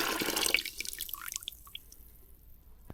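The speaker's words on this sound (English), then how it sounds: "I'm just going to pour my sugar mixture down in there" A hot sugar mixture pours from a pot into a winemaking vessel, a brief splashing rush at first that quickly gives way to scattered drips and trickles, faint and close.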